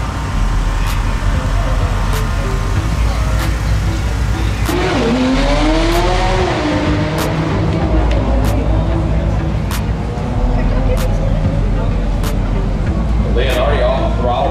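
Drag racing car making a run at the TX2K18 event, its engine roaring loud and continuous, then throttle lifted before the finish with the sound easing off, while an announcer talks over it throughout.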